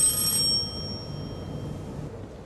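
A telephone bell rings briefly and fairly close at the very start, then cuts off, leaving only a low, steady room hum.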